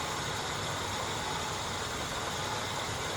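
A CJ7 Jeep's inline six-cylinder 258 engine idling after a tune-up, a steady broadband rumble and hiss heard up close without any voices.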